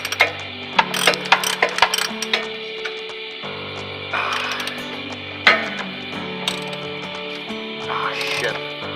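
A wrench ratchets in clicks and short bursts while loosening a nut on a 2001 Jeep Cherokee rear shock absorber's upper stud bolt, with metallic knocks and someone talking intermittently.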